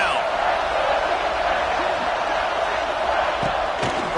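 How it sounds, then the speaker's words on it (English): Stadium crowd in the College Football 26 video game, LSU versus Tennessee, roaring steadily behind the defense on third down; a dense, continuous wash of cheering noise fills the whole stretch with a couple of brief louder bursts near the end. "Decibels rising as the crowd gets behind this defense on third down."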